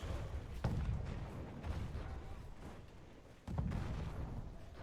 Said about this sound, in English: We got 2 mortars here for Hamburger Baby.